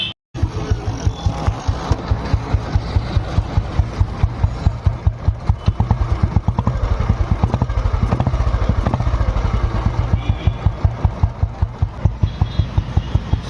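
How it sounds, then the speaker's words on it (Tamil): A single-cylinder 1997 Royal Enfield Bullet motorcycle engine idles close by with a steady, loping thump and rapid rhythmic beats, running alone for the whole stretch. "இதுதான் வண்டியோட பீட்டு, ரொம்ப சூப்பராக இருக்குது"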